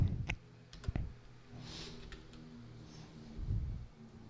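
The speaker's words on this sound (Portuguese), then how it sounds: "Eu vou digitar aqui os dados" Keys tapped on a computer keyboard while patient data is entered into a database, giving a few sharp clicks early on and then quieter, sparse taps, close by and with no talking.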